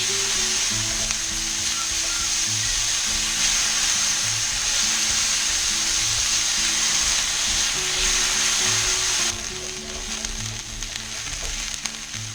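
Onions frying in olive oil for Spanish rice give a loud, continuous close sizzle with low clunks of a pan or utensil now and then, easing slightly toward the end.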